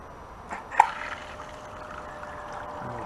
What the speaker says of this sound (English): Okay, so let's get some water flowing.